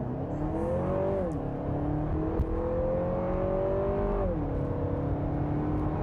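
A 2023 Lexus RX 350 in sport mode pulls away hard from a brake-torque launch, its engine note climbing in steady sweeps with gear shifts between them. The acceleration sounds loud and continuous, and no one speaks.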